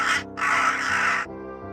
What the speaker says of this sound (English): the only thing I hear are the echoing cries of the crows